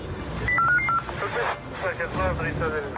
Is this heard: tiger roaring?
no